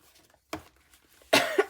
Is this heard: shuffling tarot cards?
no